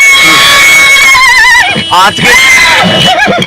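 At the Pushkar fair horse line, a horse gives a loud, close, shrill whinny that wavers up and down over several seconds, overlapping with someone talking and busy crowd noise.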